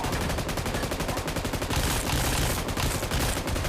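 Rapid automatic gunfire in the mobile battle royale game BGMI, dense and continuous bursts of shots with brief gaps, loud and close throughout.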